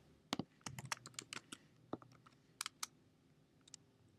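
Fingers type on a computer keyboard, with quick irregular bursts of crisp key clicks, close and quiet, separated by short pauses.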